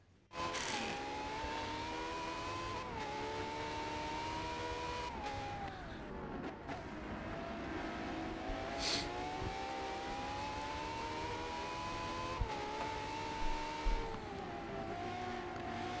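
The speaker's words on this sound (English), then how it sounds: "So we've got Lightrex, Venom, and Reaper battling it out for third place. 2 Ferraris versus a Lycan" Hypercars race around Catalunya in a racing video game, engines whining steadily at high pitch as they rise and fall through gear shifts, loud and continuous with no talking.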